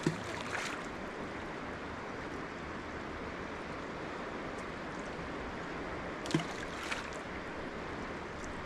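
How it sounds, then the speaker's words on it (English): The Kenai River flows over rocks on a sunny, windless day in Alaska, giving a steady, soft rushing wash with a couple of faint splashes and knocks, close by and uninterrupted by voices. "Just listening to the water going over the rocks."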